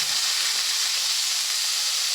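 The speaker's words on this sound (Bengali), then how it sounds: "পেঁয়াজ কলি আর টমেটোটা কিন্তু আমি এর মধ্যে দিয়ে আবারও একটু ভেজে নেব" Spring onions and tomatoes fry in mustard spice paste for a tilapia curry, giving a steady, loud, continuous sizzle and hiss with no talk.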